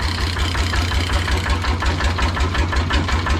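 A tractor engine idles nearby with a steady, throbbing low chug, loud and unbroken throughout, no voices.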